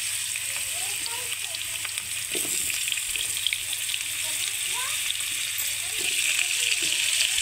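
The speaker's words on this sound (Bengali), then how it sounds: "সামান্য নুন দিয়ে আলুগুলোকে ভেজে নেব, আর কিছু দেবো না এখনো।" Potatoes with a little salt fry in hot oil as the first step of a fish curry, giving a steady, close, crackling sizzle with faint irregular pops throughout.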